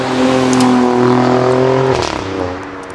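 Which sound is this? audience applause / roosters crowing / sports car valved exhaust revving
sports car valved exhaust revving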